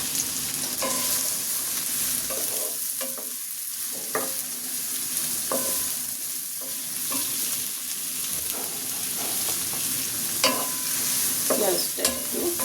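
Sliced onions sizzling in hot mustard oil in a pan, with prawns fried just before, a steady loud frying hiss broken by occasional scrapes and stirring clatters.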